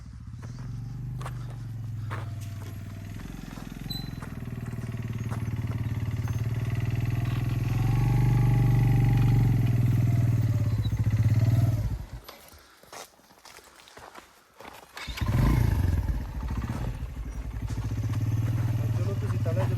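Motorcycle riding along a winter mountain road near Kund Bangla in Mansehra District, a steady low engine drone that dips briefly and returns, with voices talking over it.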